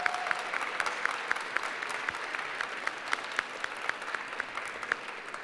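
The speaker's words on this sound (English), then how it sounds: "So big applause first for the participants." A moderately distant audience at a fashion sustainability team-pitch event applauds the participants, steady scattered clapping sustained throughout with a light crowd murmur beneath.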